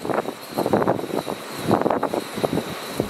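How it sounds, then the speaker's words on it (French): Strong wind gusting across a night campsite in the Vosges mountains, a steady roaring buffet close to the microphone that surges and eases in uneven bursts. "le vent s'est levé là"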